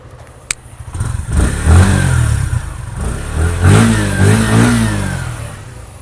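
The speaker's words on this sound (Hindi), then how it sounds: "कुछ इस तरह का एग्जॉस्ट नोट जो है वो मिल जाता है with this Suzuki Gixxer 155 SF" A Suzuki Gixxer SF 155 motorcycle idles close up, then its exhaust swells through a few throttle blips and revs, rising and falling in pitch before settling back down.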